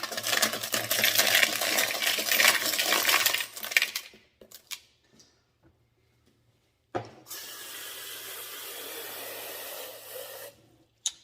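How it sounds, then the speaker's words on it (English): Tumbled rocks and a rock-tumbler barrel from a mixed batch being rinsed under running water, a loud rushing, clattering wash for about four seconds, then a pause and a second steadier stream of water, no voices. "I want to make sure that we clean the barrel and the rocks really well between cycles or stages so we don't cross-contaminate our stages. So we'll rinse them off"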